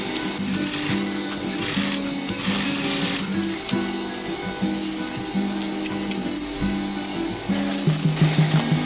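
A sewing machine runs in quick rhythmic bursts while double stitching a boxy bag, its needle chattering steadily with short pauses between runs and faint handling of fabric nearby.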